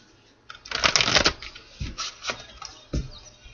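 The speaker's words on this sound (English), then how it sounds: "One more shuffle." Tarot cards riffle and slap together in a quick shuffle, a burst of crisp papery flutters followed by a few softer taps, close and alone.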